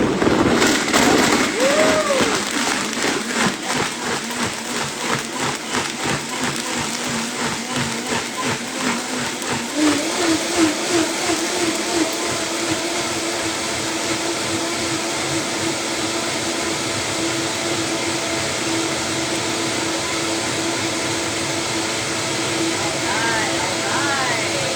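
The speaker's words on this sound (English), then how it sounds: "So we have our blender right here, and I'm just going to blend this up." Kitchen blender whirring through a spiced sauce for apple chaat salad, a loud continuous motor roar with pulsing churn that shifts pitch partway through and runs steadily to the end.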